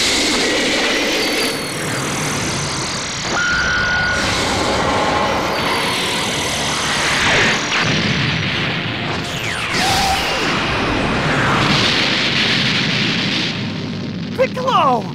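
A loud, sustained Special Beam Cannon energy blast in Dragon Ball Xenoverse 2 on PS4 roars through the scene, with rumbling bursts and rising whooshes layered over shouted voices.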